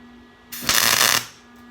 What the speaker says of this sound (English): I'm going to weld the other side now. I'm going to tack it.